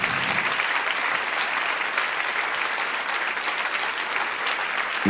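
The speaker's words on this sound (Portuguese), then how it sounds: "Você pode aplaudir mais forte o Senhor Jesus" A church congregation claps loudly and steadily in a dense, continuous wash of applause at the close of a Portuguese-language worship service, with no speech over it.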